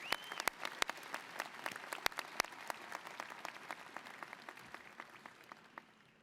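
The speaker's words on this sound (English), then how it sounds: "Let's give him another round of applause." Audience applause fills a university commencement hall, a dense steady patter of many hands with sharp individual claps standing out, gradually thinning and fading toward the end.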